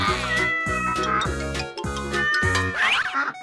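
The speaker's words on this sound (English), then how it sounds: "Yeah! Cat." A cat meows several times in quick succession, clear and close, set over a bouncy, rhythmic musical backing.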